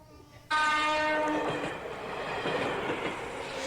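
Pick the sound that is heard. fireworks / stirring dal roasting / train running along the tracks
train running along the tracks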